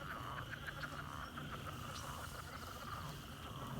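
A frog croaking near water at night on a pasture farm after a storm, faint repeated calls at a steady rhythm over a constant hiss of background noise.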